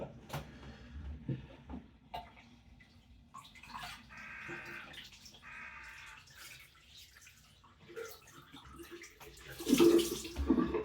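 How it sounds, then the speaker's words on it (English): Cold water from a tap runs in short bursts onto a cloth at a sink, with quiet splashing, trickling and drips and a louder gush near the end. "Just run a drop of cold onto my cloth"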